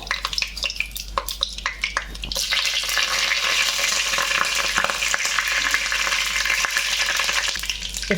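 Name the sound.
dried chillies, cinnamon, bay leaves frying in hot oil and ghee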